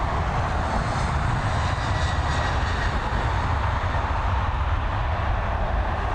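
Jet engine roar from an Airbus A321neo at Dublin Airport, a steady, loud, broadband rumble that holds unbroken throughout, with no voices.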